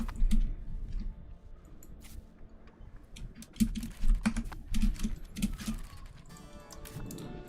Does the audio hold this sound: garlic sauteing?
no